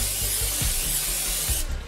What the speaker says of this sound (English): Here's a little bit of cooking spray in there.